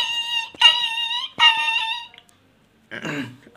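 A person mimics a puppy crying in pain with two long, high, wavering whines, close and clear, followed by a pause and a shorter, rougher whimper.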